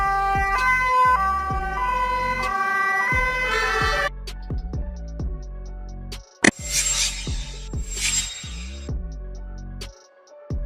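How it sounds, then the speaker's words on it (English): An airport rescue truck sounds its siren in a loud, tonal wail that cycles up and down alongside a rhythmic musical beat, then shifts to a brighter, pulsing pattern of electronic tones. "Airport rescue truck."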